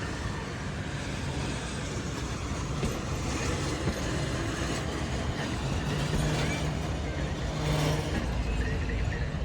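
A Shah Hussain Express passenger coach rolling past on the Karachi to Sehwan line, a continuous loud rumble and rattle of wheels on track with faint rhythmic clatter, steady and close for the whole stretch.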